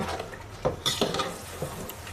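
Chicken roast is stirred in a pan, with a spatula clattering and scraping against the metal in a few quick strokes over a faint background sizzle.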